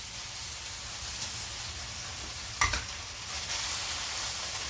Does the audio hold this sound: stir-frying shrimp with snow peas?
yes